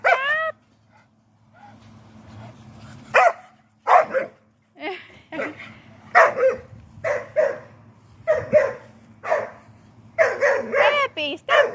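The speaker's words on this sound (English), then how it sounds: "stop barking!" A dog barks and yips repeatedly in short bursts at close range, with a few whimpers, while someone talks and shouts over it beside a popped pool.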